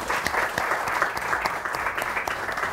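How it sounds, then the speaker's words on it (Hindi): Studio audience applause on a Pakistani morning talk show, a steady dense clapping that runs the whole time at moderate loudness, with no voices over it. "इनके लिए तालियां होनी चाहिए"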